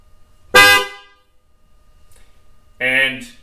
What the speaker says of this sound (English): Let's take a listen to the sound of the new horn.